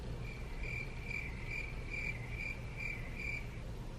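A cricket sound effect: a steady pulsed chirp repeating about eight times at an even pace over faint background hum, with no voices.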